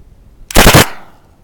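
A single loud rifle shot from a KP44 is fired at a rock 200 meters away outdoors: a sharp, close blast with a short decaying tail, standing alone against a quiet background.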